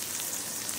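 Water sprays lightly onto plants in an organic vegetable garden, making a soft, even hiss like fine rain, steady and close throughout the short moment.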